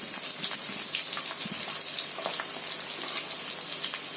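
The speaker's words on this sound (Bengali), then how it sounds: "এবার ওতে একটু রসুন দিয়ে দিলাম, আর পেঁয়াজ দিয়ে দিলাম।" Garlic and chopped onion fry in a pan with a steady bright crackling sizzle, close and continuous, with small pops scattered through.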